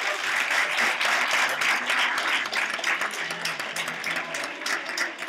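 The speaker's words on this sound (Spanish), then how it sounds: "Un fuerte aplauso para Dreike." Sustained applause from an audience at a player presentation event, a dense, steady wash of many hands clapping at full strength for the whole stretch, with no voices standing out.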